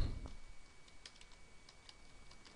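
Computer keyboard typing code, a run of light, quick key clicks in an irregular rhythm, faint and close, with no voices.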